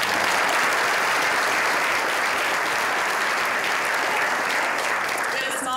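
A lecture audience applauds Professor Krugman after his talk on the economic meltdown, sustained even clapping that holds steady and fairly loud from start to end.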